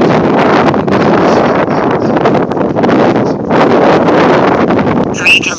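Strong wind buffets the microphone during an outdoor run in a loud, continuous roar, with gusts rising and falling throughout.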